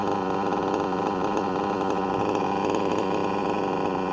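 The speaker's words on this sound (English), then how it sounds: "That's almost a perfect idle right there. Almost a perfect tune." A Novarossi P5 limited-edition .21 nitro RC engine idles steadily and loudly up close, a continuous buzzing drone with a fast, even rhythm held for several seconds and no talking.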